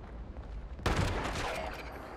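In the Fallout 76 beta, a sudden burst of gunfire breaks in and keeps going as a steady rattle of loud shots over low game ambience.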